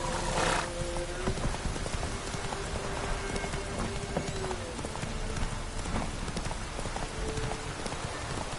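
Horse hooves clip-clop steadily in The Witcher 3 video game against constant rain, with a brief whinny near the horse and a dense, loud wet backdrop throughout.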